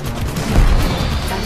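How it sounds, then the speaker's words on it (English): Gunfire from a vehicle attacking an enemy turret in the Xbox One war game Hellfront: Honeymoon, a short burst of low, dense booming shots that swells in the middle of the clip. "Attack the enemy turret using the fire button."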